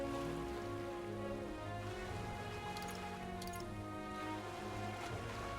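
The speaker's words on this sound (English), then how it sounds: "This bloody rain." Continuous light rain hisses in the background of a video game beneath a low, steady musical drone, with a few faint ticking drops.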